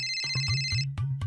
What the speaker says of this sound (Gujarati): આ તો મારો જ ફોન વાગે છે,